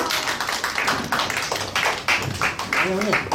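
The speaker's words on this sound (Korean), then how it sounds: "여러분 박수로 좀 환영해 주십시오." An audience claps in welcome at a political party membership press event in Korea. The clapping is dense and steady, with voices talking over it near the end.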